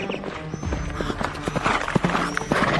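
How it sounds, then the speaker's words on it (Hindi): A king's horse gallops fast, hooves clip-clopping in a quick, busy rhythm with a brief whinny, loud and close amid other story sounds. "राजा का घोड़ा तेजी से दौड़ रहा है।"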